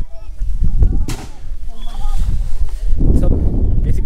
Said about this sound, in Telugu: పైన బాంబులు వెలుస్తున్నారు ఎవరో